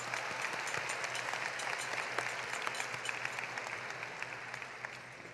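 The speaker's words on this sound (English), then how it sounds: "Give yourselves a big round of applause." A graduation audience at a high school ceremony applauds steadily, a dense wash of many hands clapping from a distance that holds even for several seconds over a faint background hum.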